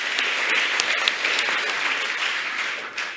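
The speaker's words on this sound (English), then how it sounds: "Can you give a clap for this speech" Audience applause fills a hall after a government minister's speech on scholarships, a steady dense wash of clapping with a few sharper claps standing out, loud and continuous throughout.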